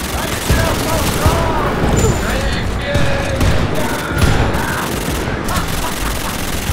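Rapid gunfire in the co-op shooter Wolfenstein: Youngblood, a dense, loud fusillade of shots and blasts filling the whole stretch without pause.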